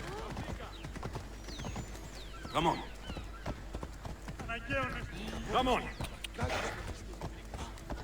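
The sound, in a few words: horse hooves galloping in Assassin's Creed Odyssey video game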